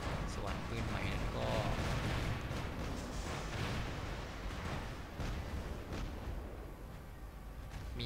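A new heavy weapon prototype firing in the War Robots video game, repeated booming shots in a rapid rhythm with a loud, dense rumble, while someone talks over it.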